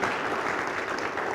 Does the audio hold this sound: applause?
yes